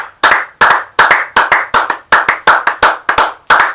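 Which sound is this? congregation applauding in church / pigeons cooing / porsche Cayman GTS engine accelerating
congregation applauding in church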